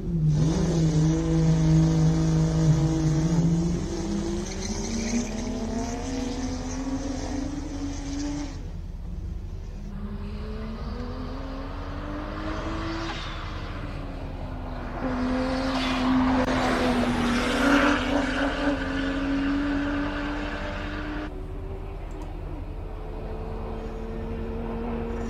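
A twin-turbo 335 race car accelerates hard up a hillclimb course, engine note climbing through several gear changes with turbo and wastegate whoosh, loud and close, without talk.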